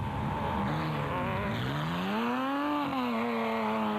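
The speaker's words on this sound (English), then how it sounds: "the immaculately prepared Secarock Sandmaster, which is powered by a Nissan V6 engine" An off-road Sandmaster race car powered by a Nissan V6, competing in the Caledon 400 of 2002, roars past with its engine pitch climbing and falling as it accelerates and shifts, loud and continuous.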